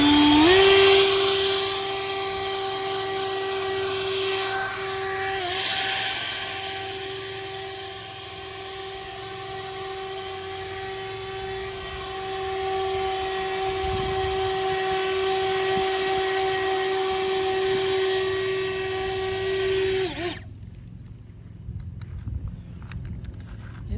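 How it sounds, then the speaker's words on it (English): A Bullseye handheld turbo leaf blower whines loud and steady while clearing leaves off a driveway, a continuous motor drone holding for about twenty seconds, then cutting off to quiet outdoor background. "I'm going to blow some leaves off of my driveway."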